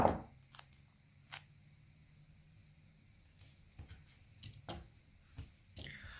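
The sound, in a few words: cutting off excess material while building a drone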